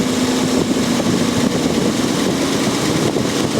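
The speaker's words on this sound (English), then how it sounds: "You can see that the engine is now picking up if I rotate it clockwise." A Jaguar XJ6 4.2 litre engine runs steadily with a low hum and a faint constant tone, idling on while the distributor is turned, its pace rising slightly toward the end.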